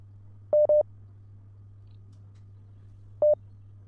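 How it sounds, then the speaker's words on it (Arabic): Short electronic beeps on a phone line after a caller hangs up, two quick tones and then a single one after a pause, over a low steady hum. "قفل الخط والله قفل الخط"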